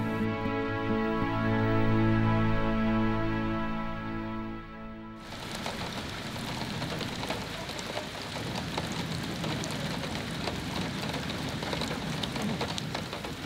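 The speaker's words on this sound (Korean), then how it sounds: "결국 빗방울이 쏟아집니다." Heavy rain pouring down at night during a Buddhist pilgrimage walk, starting after a few seconds of tonal music and then a dense, steady hiss of drops on surfaces filling the rest.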